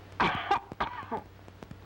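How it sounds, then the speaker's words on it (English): A woman coughs on request during a palato-pharyngeal examination, giving a couple of close, harsh coughs followed by softer throat-clearing sounds, fairly quiet overall. "Cough"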